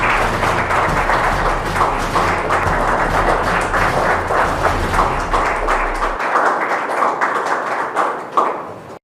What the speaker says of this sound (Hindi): बार जोरदार तालियां हो जाएं